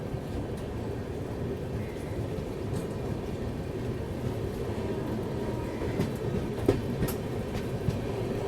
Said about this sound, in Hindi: फकीरा ग्राम से अपनी जो ट्रेन है वो निकल रही है अब।